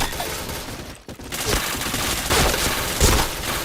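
Rapid bursts of gunfire in a shooting video game, dense fusillade of shots close and loud, with a brief gap near the start, no talking.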